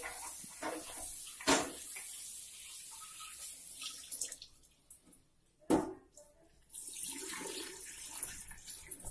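Rice being rinsed in water by hand, with faint sloshing and trickling, a couple of sharper splashes and clinks, and a quiet background.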